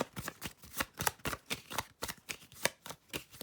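Tarot cards are shuffled by hand in quick, crisp bursts of riffling and slapping, close and fairly quiet, in an uneven rhythm with short pauses, and no one speaks.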